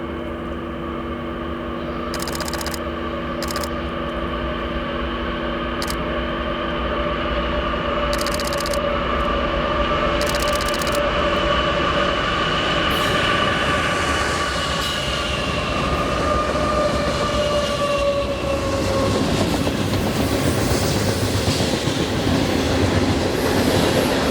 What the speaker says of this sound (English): this coal train roars through town